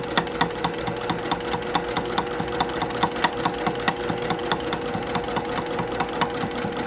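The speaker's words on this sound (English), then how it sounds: "watch how fast the fabric goes through the machine at a stitch length number 4" Domestic sewing machine stitching fabric at a long stitch length of 4, a fast steady mechanical whir with rapid evenly spaced needle clicks running throughout, close and continuous with no talking.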